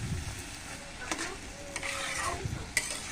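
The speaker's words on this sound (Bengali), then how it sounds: "তো আমি এখানে আলুটা ভেজে নেব।" Potatoes frying in a pan for a home breakfast, with a soft sizzle under scraping stirs from a spatula, a couple of sharper clinks of utensil on metal, close and moderately loud, with no talking.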